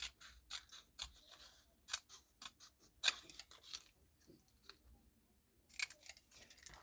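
Scissors cutting paper into strips, a quiet run of crisp snipping strokes in an uneven rhythm, close up with pauses between cuts and no talking.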